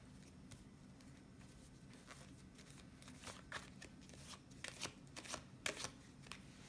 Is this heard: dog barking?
no